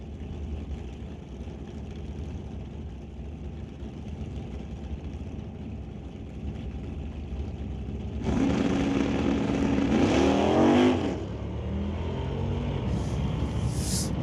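Drag race launch of a 1969 Mach 1 against a 1980 Chevy Camaro at a Summit ET sportsman final, distant engine rumble at first, then a sudden loud roar of revving engines pulling away before settling back.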